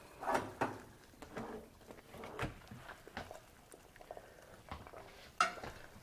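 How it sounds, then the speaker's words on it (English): A hot hex nut lifted off a spoon into water in a calorimeter and then stirred, making faint close clinks and scraping taps that come in scattered bursts. "transfer the hot hex nut in here, and then start stirring so that we can encourage rapid heat exchange"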